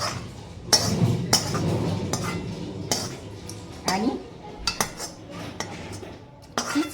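Cooked chicken scraped from one kadhai into another, metal utensils clinking and knocking in irregular close bursts, with a brief spoken word from a woman.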